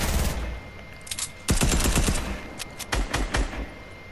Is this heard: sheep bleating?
no